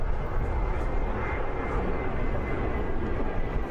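An airplane roars past low at the ILA Berlin air show, a loud, dense, continuous engine rumble filling the scene with no talk.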